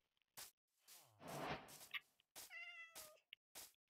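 A cat meows in a village-exploring video game, a couple of clear mid-length meows with one drawn-out rising call near the end, close and alone, separated by short gaps and soft clicks.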